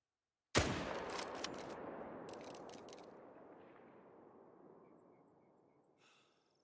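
A single loud rifle shot in Hunter: Call of the Wild cracks suddenly, followed by a long echoing tail that rolls away and fades over several seconds in an otherwise quiet outdoor setting.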